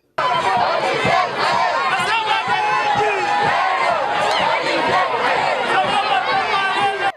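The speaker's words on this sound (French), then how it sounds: "une populace qui a inondé le boulevard Boulungu pour lui témoigner son soutien" A dense crowd packing Boulevard Boulungu cheers and chants to welcome a politician, a loud continuous roar of shouts and voices lasting the whole stretch.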